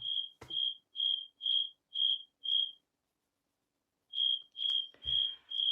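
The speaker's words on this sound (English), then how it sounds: "I should put cricket sounds in" Cricket chirps sound alone, faint and steady, in two bursts of evenly spaced high trills separated by a short pause.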